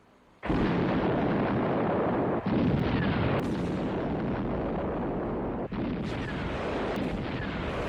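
Dense, loud gunfire and blasts from the 1973 film Live and Let Die erupt suddenly and continue as a sustained barrage, with a few sharp breaks and cracks along the way.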